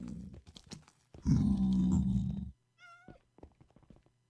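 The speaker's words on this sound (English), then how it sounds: "all these silly cats" Minecraft cats meow in a game world, several short meows and a drawn-out whiny cry in the middle, fairly close and clear over a low background hum.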